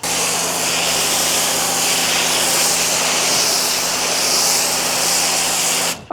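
A foam cannon sprays thick wheel and tire cleaner foam at roughly a 3:1 dilution onto a car wheel, a loud, steady broadband hiss that runs unbroken for about six seconds and cuts off sharply at the end.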